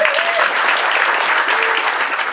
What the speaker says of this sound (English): Round of applause for Ifka.